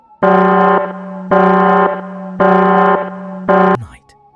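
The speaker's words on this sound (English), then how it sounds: "the asylum alarm exploded through the night" An asylum alarm blares through the night in four long, evenly spaced bursts, each a harsh buzzing tone, the last one cutting off abruptly.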